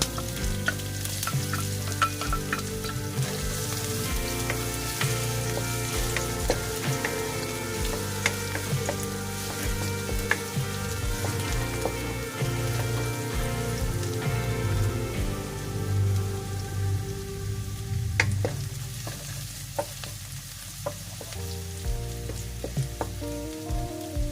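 Garlic sautéing in a hot pan before chicken and vegetables go in, giving a continuous rain-like sizzle and crackle that holds steady and close for the whole stretch, with no one talking.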